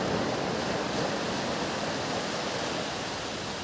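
Sea waves roll onto Dagara beach in Odisha as a continuous, broad wash of surf, loud and close, with no breaks or voices over the steady roar.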